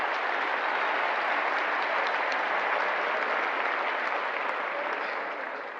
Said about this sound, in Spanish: vamos a darle ese aplauso, honrados estamos